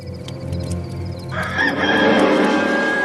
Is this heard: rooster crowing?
yes